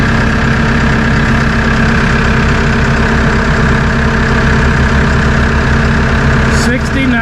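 A Massey Ferguson 2850E compact utility tractor engine idles steadily up close at about 69 to 70 decibels, a constant low rumble with a faint mechanical clatter, running throughout without pause.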